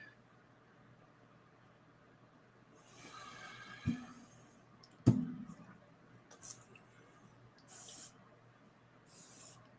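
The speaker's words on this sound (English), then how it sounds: "I'm not one for layering, but this is too good to not spray on." Short hissing spritzes of perfume, including a mango-scented fragrance, sound from a bottle in a quiet room: a few separate sprays with soft handling noises between them, close and fairly faint.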